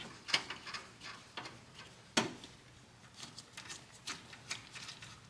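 A hand ratchet clicks in short bursts while snugging the battery tie-down nut on a 2007 Toyota Highlander Hybrid, quiet and close with irregular pauses between pulls.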